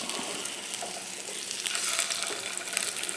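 A flipped egg frying in a pan sizzles continuously, a dense crackling hiss that holds steady and grows slightly louder toward the end, with no voices.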